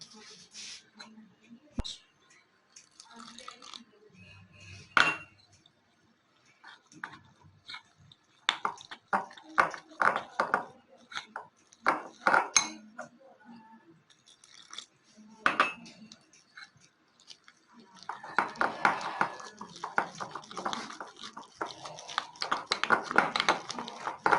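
Scraping and clinking of a utensil stirring boondi batter in a bowl, irregular and close, growing into steady wet swishing toward the end.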